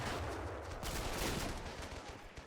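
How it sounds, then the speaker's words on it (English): Gunfire in a video game battle at a bunker on Devil's Ridge, with troops firing down into the bunker from above: a faint, dense, continuous rattle of rapid shots with no pauses. "They're shooting down into the bunker from above"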